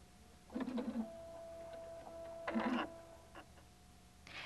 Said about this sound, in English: Touch E21 to stitch one of the beautiful crazy patch quilting stitches on your designer one